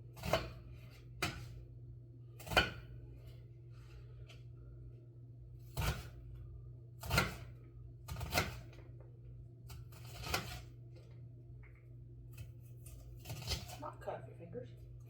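A knife chops dehydrated onion on a board in a quiet kitchen, making about ten sharp, uneven knocks spread across the clip, with some talking in between.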